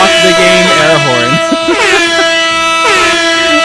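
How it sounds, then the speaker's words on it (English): A loud air horn blares close by in long wavering blasts, with people talking and laughing over it. "Airhorn"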